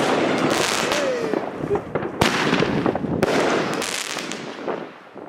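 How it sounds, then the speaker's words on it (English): Fireworks launched at midnight on New Year's Eve across Denmark, a dense ongoing crackle of bursts and sharp bangs near and far, one rocket whistling upward, with faint voices underneath. "launched fireworks with the rest of the nation at midnight"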